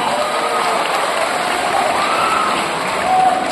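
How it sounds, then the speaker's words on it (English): A graduation-style audience applauds the parents with loud, continuous, dense clapping that fills the whole moment, a close and even roar from a large crowd with faint voices mixed in. "Let's give them a round of applause, please."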